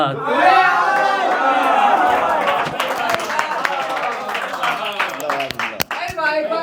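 Audience clapping and chatter after a recitation at a Hindi/Urdu poetry gathering: steady, fairly close applause mixed with crowd voices throughout, individual claps standing out near the end.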